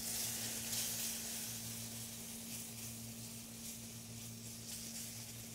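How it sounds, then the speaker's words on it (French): Milk being poured into a hot sauce base: a continuous soft, even hiss and sizzle, fairly faint, over a low steady hum, with no talking. "Je rajoute mon lait."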